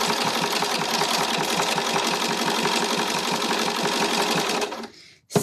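A sewing machine stitching a fabric pouch runs in a steady, loud, rapid mechanical chatter for several seconds, then slows and stops near the end, followed by a brief clunk.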